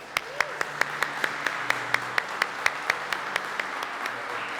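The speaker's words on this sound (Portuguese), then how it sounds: "vamos dar uma salva de palmas para elas?" A church congregation claps for the women in a steady, evenly spaced beat of crisp claps, moderately near, under a low background murmur with faint voices.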